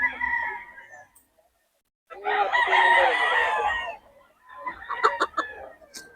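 A Golden Monkey gamefowl rooster crows loud and close in a couple of strained calls, with short clucking and background chatter between them.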